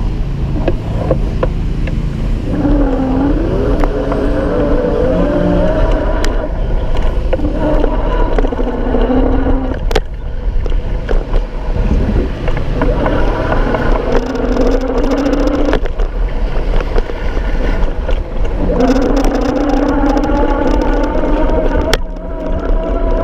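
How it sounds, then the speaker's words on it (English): Schwinn Monroe 250 e-bike motor whirring steadily while riding along, with a continuous hum mixed with road and wind noise, carried through the seat post and heard close up throughout. "Maybe you can hear the motor a little bit better because you're connected to the seat post"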